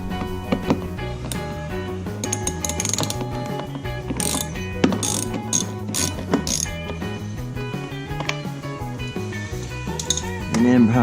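A ratchet drives a T30 Torx bit inside a Camaro, producing close, rapid clicking pawl runs in bursts with short pauses, while someone talks intermittently over the work.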